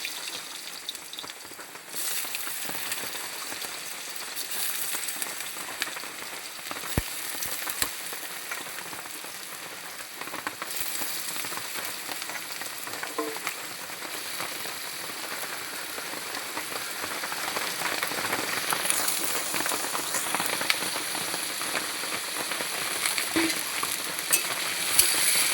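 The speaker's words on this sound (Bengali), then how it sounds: "লাল করে ভেজে নেব।" Potatoes fry in hot oil in a heated wok for a Kabuli chicken dish, giving a steady, dense crackling sizzle that runs unbroken and grows slightly louder toward the end, with no voices.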